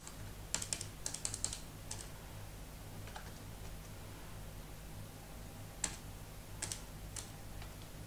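Computer keyboard keys pressed in quick clusters, sharp close clicks in short bursts separated by pauses, quiet room.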